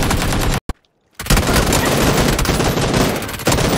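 Rapid automatic gunfire from a shooter video game, loud and close, with a short burst, a sudden gap of near silence, then sustained dense shooting to the end.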